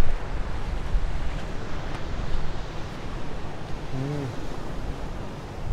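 Rough sea waves wash onto a sandy beach at a resort in Infanta, Quezon, a steady broadband roar of surf mixed with wind buffeting, continuous and fairly loud, with no speech.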